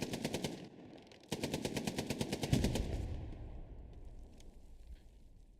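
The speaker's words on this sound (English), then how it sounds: "Just laying into it with his machine gun here." Rapid machine gun fire in the Hell Let Loose video game clatters in two sustained, evenly spaced bursts, loud and close, followed by a lingering rumble and scattered distant shots.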